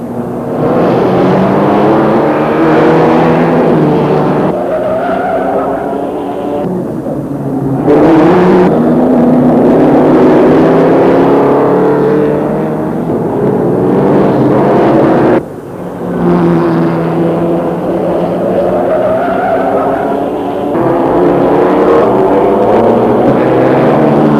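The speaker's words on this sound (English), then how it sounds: "When the cars roar past on the banking and the going is fast and furious, Brooklands provides its greatest thrill." Austin 7 racing cars roar past on the Brooklands banking in 1936, a loud continuous engine drone with rising and falling pitch sweeps as cars pass, with no talk.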